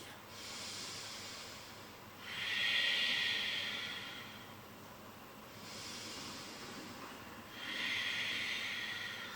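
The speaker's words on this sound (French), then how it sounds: "Commencez à mettre en place votre respiration Ujjayi" Slow ocean-like breath through the nose with the throat narrowed in Ujjayi yoga breathing, heard as two long rasping cycles. Softer airy inhales lead into louder, drawn-out hissing exhales, close and steady with no talk.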